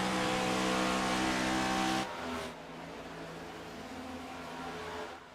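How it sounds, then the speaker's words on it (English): Stock race car engines roar in a racing video game's Cup Series race at Las Vegas, a loud dense drone for about two seconds that then drops to a lower, steadier engine hum. "These cars are pretty loud, by the way, Bradley"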